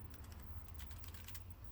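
Computer keyboard keys tapped in a quick, irregular run of soft clicks, fairly quiet and close, with no talking.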